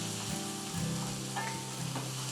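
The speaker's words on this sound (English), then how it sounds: "So we're gonna caramelize our onions first." Onions fry over high heat in a pan, caramelizing with a loud, dense sizzle close by, along with a few soft stirring scrapes.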